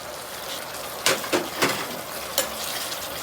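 Chopped coriander tipped into a pan of simmering tomato gravy, giving a few soft scraping, stirring knocks over a low steady cooking hiss; no talking.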